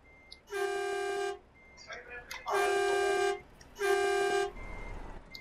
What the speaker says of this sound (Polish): No klakson.